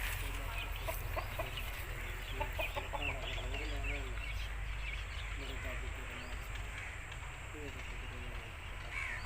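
An aseel rooster clucks in short, soft repeated bursts over a steady hum of background noise, with occasional faint low calls.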